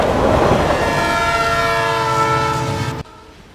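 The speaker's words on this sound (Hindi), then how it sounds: "लहरों की आवाज बंद हो गई और ट्रेन की आवाज सुनाई पड़ी।" A train rolls past on a railway track by the beach at Vizag, its loud horn blaring in a sustained, rich tone over rumbling wheels. Both cut off abruptly near the end.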